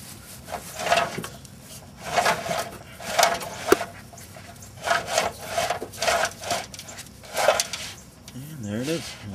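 LED neon wire being pulled through a truck frame, giving repeated scraping, rubbing pulls in bursts of about half a second, close and moderately loud, with a brief rising squeak near the end.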